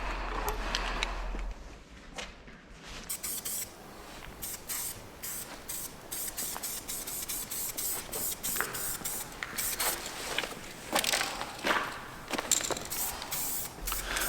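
A spray paint can hisses in repeated bursts while filling in a graffiti piece at an abandoned lost place. The spraying is close and steady, with short pauses between passes.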